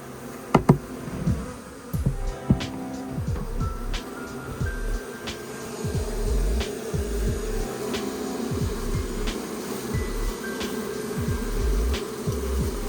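Bees swarm around an opened hive, a dense buzzing drone with individual insects zipping close past the microphone, steady throughout with a few faint knocks early on.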